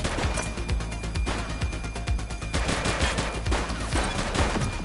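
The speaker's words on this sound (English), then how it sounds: "He's shooting!" Continuous gunfire in the police game The Precinct, dense overlapping shots and bursts filling the whole span, loud and close, with no talking.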